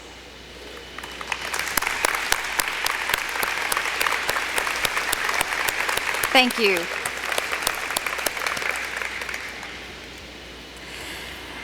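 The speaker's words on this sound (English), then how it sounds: "please stand up so that we can give you a round of applause" Volunteers and partner organizations at a district recognition event are applauded by the audience, a sustained burst of crowd clapping that swells and then tapers, with a brief spoken word and a faint voice passing through the middle.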